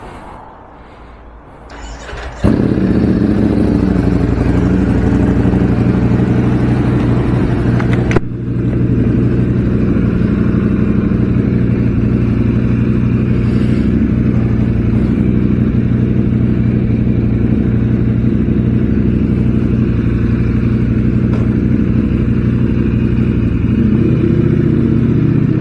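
A freshly serviced Ducati Streetfighter V4S with new oil and brake pads idles loud and close, its engine rumbling steadily and evenly with no talk, after a brief quieter start.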